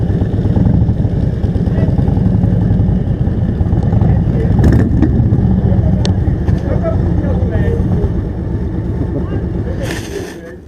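A motorcycle engine drones steadily with loud wind buffeting, heard while riding, fading slightly near the end.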